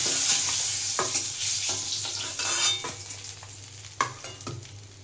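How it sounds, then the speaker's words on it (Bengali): Nigella seeds crackle and sizzle in hot oil in a pan while a utensil stirs and scrapes, giving a steady fry broken by sharp metallic clinks and taps, no voices. "কালো জিরে ফোড়ন দিচ্ছি।"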